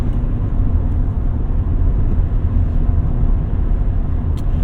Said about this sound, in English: When you flat foot it, you can definitely hear there's just a little bit more induction noise there